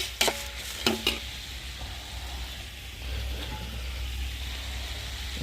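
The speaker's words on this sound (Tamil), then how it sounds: "அது கூட பாவக்காயை போட்டு வதக்கணும்" Bitter gourd sautéing in a moderate amount of oil, a steady soft sizzle after a few sharp utensil knocks at the start, close and continuous with no talk.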